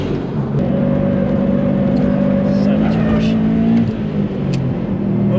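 A Subaru STI's engine pulls steadily under acceleration on a race track, a loud sustained drone rising slightly in pitch inside the car, with someone talking over it.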